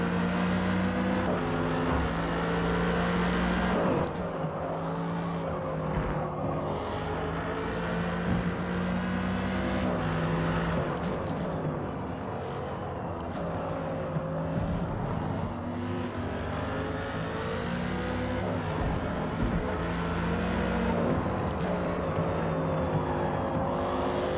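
Mercedes-AMG race car battling a Dodge Viper at Hockenheim in Forza, a continuous loud engine drone rising and falling through gear changes, with brief tire and curb noises throughout.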